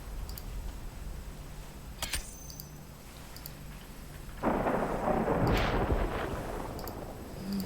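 A thunder rumble rolls in during a storm in the ship game Abandon Ship, a broad, swelling roar that builds to a loud peak and lingers, following a few sharp clicks and a thin tone earlier.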